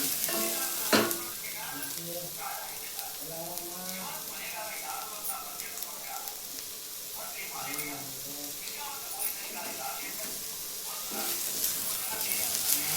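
Masala of tomato, a little mint and coconut fries in a pan for a village-style country chicken soup: a continuous soft sizzle with stirring scrapes, and a voice talks over it at times.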